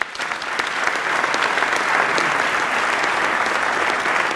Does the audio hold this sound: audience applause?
yes